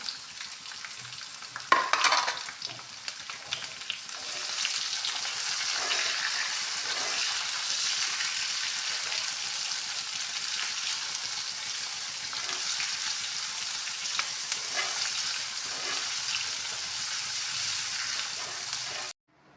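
Chopped onion and green chilies fry in a pan for an arbi (taro root) curry. A few clattering knocks come first, then a loud, continuous sizzle with occasional stirring scrapes runs to the end.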